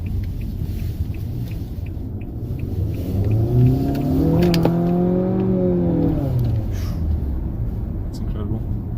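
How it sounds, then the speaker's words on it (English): A 2019 Nissan Altima accelerates from inside the cabin, a steady low engine drone rising into a climbing whine as revs build, then settling back, with faint cabin clicks and no talking. "Let's go ahead and step on the gas up here."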